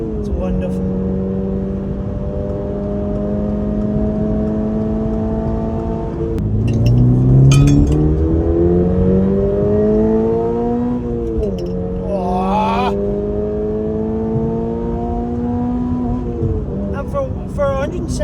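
A Toyota GR86 sports car, rated at 170 kilowatts, pulls hard through the gears, its engine note climbing steadily in pitch with clear gear changes, heard from inside the cabin.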